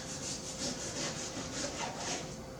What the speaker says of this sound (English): And again, I'm trimming off fat as we go here. This is a big pork shoulder,